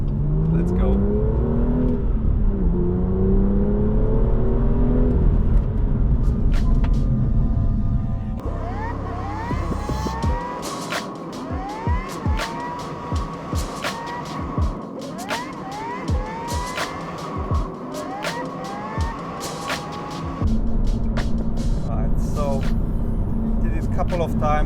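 A car on an empty road accelerates hard toward 60 mph, its engine climbing through gears, then slows under braking while someone talks throughout. The engine rises loud and steady again near the end.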